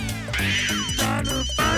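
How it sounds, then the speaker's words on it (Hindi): A telephone rings loudly and continuously with a bright, melodic tone, filling the moment alone in an indoor scene from a Hindi TV sitcom. "मेरी वाइफ का फोन होगा, प्लीज मत उठाना सर"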